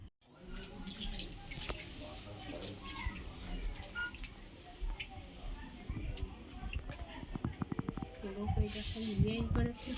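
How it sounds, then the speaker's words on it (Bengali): A broom sweeps a floor wetted with water, making repeated scratchy, swishing strokes with wet slaps, growing busier toward the end, while people talk throughout. "ঝাঁটা নিয়ে পরিষ্কার করছে আর জল দিয়ে দিচ্ছে"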